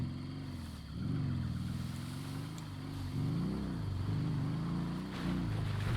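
A steady vehicle engine drones with a low harmonic hum in GTA Online, pitch rising and falling slightly as if the vehicle revs and idles, continuous throughout with no speech.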